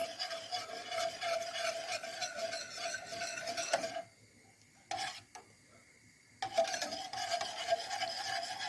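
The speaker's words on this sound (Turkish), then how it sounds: "Karıştırmaya devam ediyorum." A spoon scrapes and rubs steadily in a pot of wedding soup with finely minced meat, stopping for about two seconds before the stirring resumes, close and alone.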